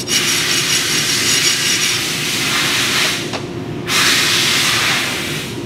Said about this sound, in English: Take your file. Clean this up, make sure there's no burrs.